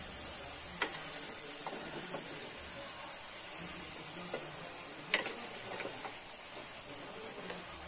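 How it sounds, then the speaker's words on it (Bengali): Mixed vegetables for a panchmishali curry are stirred in a frying pan, a soft, steady sizzle with a few faint scrapes and clicks of the spoon scattered through it. "সবজিটাকে আমি একটু নেড়ে চেড়ে নিচ্ছি।"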